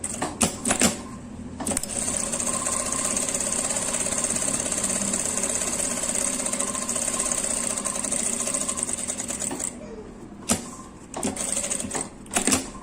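A sewing machine runs steadily for several seconds, stitching around the seam of a fabric essential-oil holder, with short start-stop bursts at the beginning and end; loud and close, no talk.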